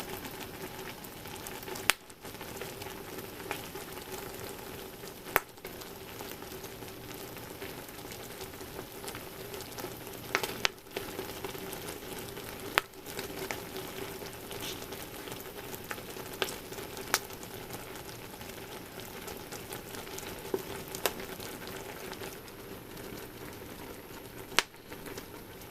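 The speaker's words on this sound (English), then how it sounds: "You'll start to hear the cranberries pop open" Cranberries simmering for vegan canned sauce in a Nesco Smart Canner pop open in a steady sizzling bubble, with scattered sharp little pops and cracks spread over a continuous low hiss.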